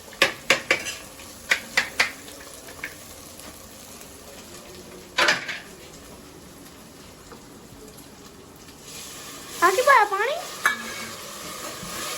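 Onions fry and brown in a pan in a home kitchen while a spoon scrapes and clanks against the metal in scattered bursts over a low, steady sizzle.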